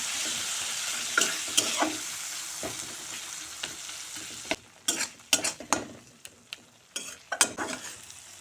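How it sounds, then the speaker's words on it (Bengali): Turmeric, chili and cumin powder frying with a splash of water in a pan, steady sizzle under repeated scraping spatula strokes that grow busier and more rhythmic in the second half, close and clear, no voices. "এখন ভালো করে মশলা কষিয়ে নেব।"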